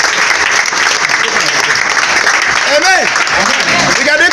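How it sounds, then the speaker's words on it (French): A church congregation bursts into sustained applause, a dense steady wash of clapping filling the whole stretch, with a voice talking over it near the end. "Applaudissez."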